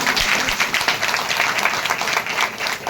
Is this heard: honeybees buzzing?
no